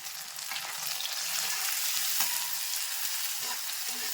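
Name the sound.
onions and tomato frying in a pan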